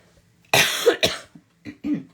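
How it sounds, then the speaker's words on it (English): Several coughs from a person close to the microphone during a painting demonstration: one harsh burst followed by a second, then two shorter, softer coughs after a brief pause, with no talking. "Sorry about my cough."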